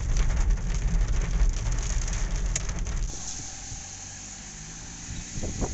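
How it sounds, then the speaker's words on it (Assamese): Light rain in Shillong patters steadily on a surface, louder at first and then settling into a softer, even hiss with a few scattered drops. "অলপ বৰষুণ পাইছোঁ, অলপ একদম অলপ"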